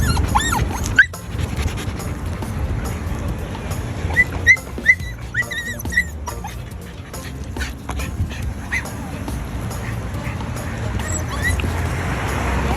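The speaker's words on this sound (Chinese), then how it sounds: "非常兴奋的柴犬。" An excited Shiba Inu dog at a crowded beach whimpers and yips in short high-pitched bursts, clustered around the middle, over outdoor background noise with people talking nearby.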